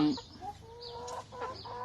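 Laying hens cluck and call around feeding time on a small egg farm, several birds at close range with short rising notes over a steady low barnyard murmur, no talking.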